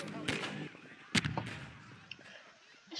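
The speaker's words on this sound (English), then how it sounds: "Stop shooting me." Gunfire in Garry's Mod: a few sharp, isolated shots crack out, one strong burst near the start and another louder one a moment later, with fainter pops between, over a murky game background.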